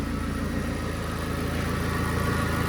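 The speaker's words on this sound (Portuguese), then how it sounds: "Quando o motor aquece, pessoal, esse barulho agrava ainda mais." A warmed-up VW Gol Parati engine runs with an abnormal noise, a loud close steady rumble with a faint rhythmic pulsing and no talk.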